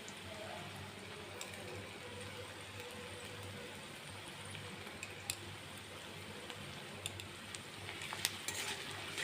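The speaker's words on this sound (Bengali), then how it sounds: "এখন আমি এর মধ্যে দিয়ে দেবো রসুনটাকে।" Garlic goes into onions already fried reddish-brown in a pan, raising a steady, close sizzle that crackles on evenly, with a few sharp spatters and clinks toward the end.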